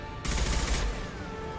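Rapid gunfire in the video game Mass Effect 2, a dense burst of shots that starts abruptly, runs loud for about half a second and then fades into a ringing tail.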